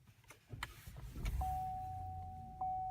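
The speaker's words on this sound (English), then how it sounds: "So starting up the engine, you immediately hear that it's just very quiet in general." Engine start of a 2014 Cadillac XTS heard from inside the cabin: a brief click and whir, then a quiet, smooth idle with a faint steady tone, very subdued overall.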